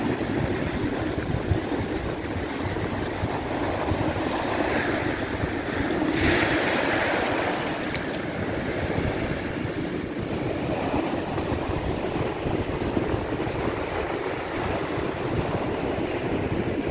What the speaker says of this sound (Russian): вот это вот, волны и солнце